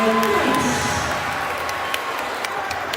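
Basketball crowd at a White County vs. Warren County high school game cheering and applauding after a dunk, a loud steady roar of voices filling the gym with scattered whoops.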